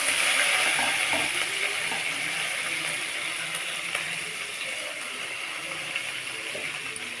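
Curry leaves sizzle steadily in hot oil with golden urad dal for a chutney tempering, a dense continuous crackle held at an even level from start to finish with no talk.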